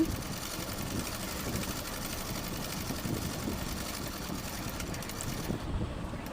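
A sewing machine joins two pieces of cloth for a child's panty, with a steady low mechanical whir and rapid stitching rattle running close and even, easing off briefly near the end.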